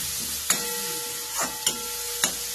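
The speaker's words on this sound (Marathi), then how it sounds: "आता हे मिश्रण याच्यामध्ये घालायचं. चांगलं भाजून घ्यायचं." A potato and urad dal vada masala mixture is stirred and roasted in a pan over tempered mustard seeds, giving a steady sizzle with three or four sharp scraping strokes of a spoon, close and alone.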